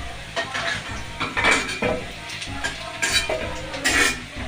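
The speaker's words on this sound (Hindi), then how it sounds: "आलू हमर फ्राई अखन भ रहल है" Potatoes frying in a pan in a home kitchen, a busy crackling sizzle broken by repeated scraping stirs and clinks of a utensil against the pan, close and steady with no voices.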